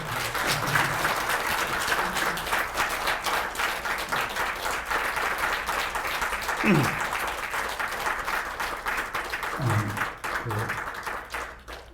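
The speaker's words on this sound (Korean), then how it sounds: "박수 한번 주세요." Audience applause at a Korean health clinic lecture, a steady dense clapping sustained throughout at moderate level, with faint voices mixed in.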